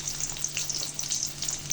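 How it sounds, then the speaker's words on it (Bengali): Chopped onion fries in a wok with a close, steady sizzle and crisp crackling spatter, with no talk. "ছোলা ভুনা করার জন্য কড়াইয়ে দিয়ে দেবো পেঁয়াজ কুচি।"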